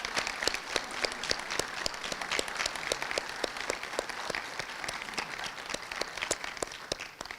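An audience at a veterans awards ceremony in Groton applauds Korean-era and Vietnam-era veterans, sharp individual claps in a steady rhythmic patter, fairly distant and moderate in level, tapering at the end.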